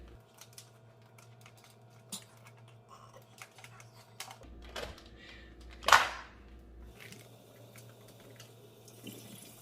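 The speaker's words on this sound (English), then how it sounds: "Now I'm gonna rinse the rice and pour it into my basket." Soaked rice is rinsed under running water in a kitchen sink, a faint steady trickle with scattered clicks and knocks, and one brief louder splash midway.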